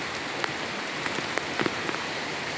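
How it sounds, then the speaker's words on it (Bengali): Heavy rain falling outdoors, a steady, moderately loud hiss marked by scattered sharp drops and splashes striking close by, with no voices. "এখন অনেক বৃষ্টি পড়ছে"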